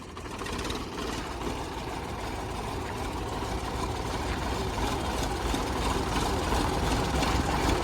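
A Mahindra 395 Turbo tractor engine runs at a steady idle, a continuous low rumble with a fine rapid mechanical rattle, constant in level throughout and heard alone without speech.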